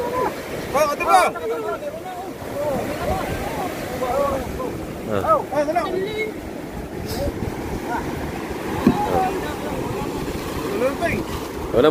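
Fishing boat out at sea with two boats working nets, its motor droning steadily under wind noise while several people talk and call out over it throughout.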